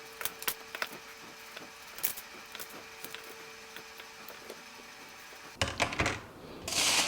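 Vegetables being cut up with a knife on a board while preparing high-protein meals: a quiet series of sharp, irregular chopping taps, ending with a louder burst of rustling and clatter.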